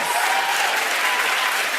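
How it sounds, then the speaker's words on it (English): A live podcast awards show audience claps steadily and loudly throughout, a dense, continuous wash of applause with no talking over it. "Think about what you're all clapping for."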